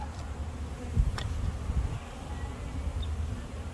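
Honeybees buzzing around a hive as it is moved, a soft, steady low hum with faint passing buzzes, quiet and without talk.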